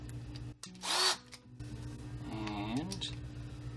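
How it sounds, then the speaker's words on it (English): Power drill fitted with a Phillips head bit driving a screw while kitchen cabinets are installed, one short high whir followed by a longer rising-and-falling whine over a low background hum. "And drill it."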